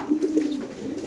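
Club pigeons kept in a cage give a close, clear run of throaty coos, a few quick pulses followed by a sustained low murmur, with no talking.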